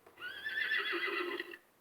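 A horse neigh from a Fisher-Price bilingual learning toy table, played alone as one bright, fairly loud whinny lasting about a second and a half with no talk over it.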